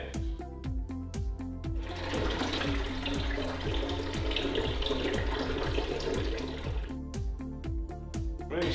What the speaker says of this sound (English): locate the bung plug and totally drain the reservoir